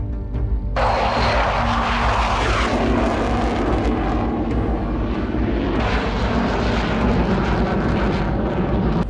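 An AMX International AMX attack jet, built jointly by Italy and Brazil, roars past with a loud, continuous engine rumble and broad jet noise that swells midway and stays strong throughout.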